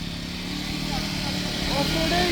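Motorbike ridden slowly along a muddy monsoon forest trail, its engine droning low and steady, with people talking over it.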